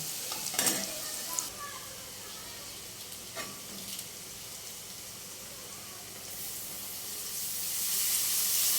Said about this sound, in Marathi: आता त्यात आपण कांदा टाकणार आहोत. कांद्याला पण तसेच फ्राय करून घेणार आहोत आपण.